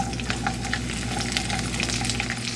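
Ivy gourd pieces fry in hot oil with spluttered mustard seeds and cumin in a pan for an onion curry, giving a steady, dense, close sizzle throughout.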